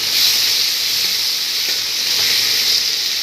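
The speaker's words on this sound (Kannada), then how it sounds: "ಇದಕ್ಕೆ ಶುಂಠಿ ಬೆಳ್ಳುಳ್ಳಿ ಕುಟ್ಟಿಟ್ಟಿದೆಯಲ್ಲ ಅದನ್ನು ಹಾಕ್ತಾಯಿದ್ದೀನಿ" Crushed ginger and garlic hit hot oil in a pan of frying cauliflower (gobi), giving a loud, close, continuous hiss-like sizzle with no voices over it.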